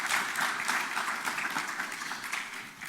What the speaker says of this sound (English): we'll give you a round of applause for just coming and giving us your few words.